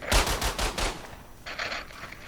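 Machine gun fire in a zombie video game comes as rapid, loud, close bursts, a fast rattling volley followed by a short pause and then a second, slightly softer burst.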